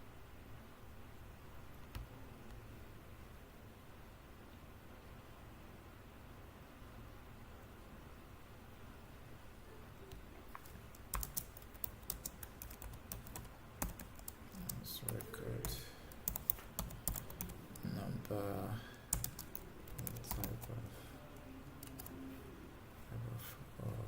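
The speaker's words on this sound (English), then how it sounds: "typing." Someone types on a computer keyboard, faint at first and then a denser stream of quick clicks and key taps over a low background hiss.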